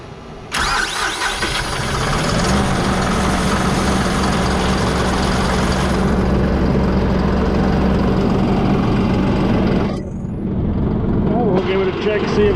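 A John Deere 5075E tractor engine cranks over and fires up, then settles into a loud, steady close-up idle that continues for several seconds before the revs briefly drop and pick back up.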